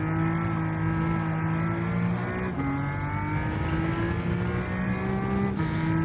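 A race car in Gran Turismo 7 at Fuji screams against its rev limiter, holding a steady high-pitched engine drone with bright harmonics, a brief dip and a quick stutter as it bounces off the limiter, loud and continuous with no voices.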